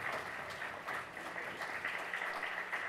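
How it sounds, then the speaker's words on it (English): A church congregation claps in a round of applause, a steady, fairly faint wash of many hands sustained without a break. "We need to give him a round of applause,"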